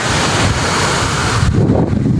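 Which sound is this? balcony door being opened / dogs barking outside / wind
wind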